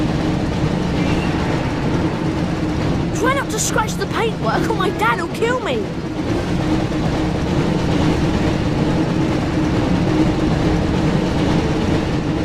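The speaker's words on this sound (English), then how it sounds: "Looks like we found the train" A train rumbling through a tunnel in the Harry Potter and the Chamber of Secrets video game, a loud, steady low roar that persists throughout, with a character speaking briefly over it in the middle.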